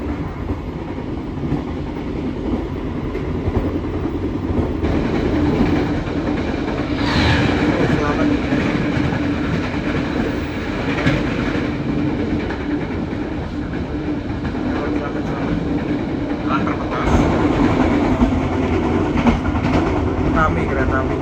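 A passenger train on the Surabaya–Bandung line in Indonesia rolls along its rails, a loud, continuous rumble with rhythmic clickety-clack from the wheels and rising bursts of noise, mixed with some faint background chatter.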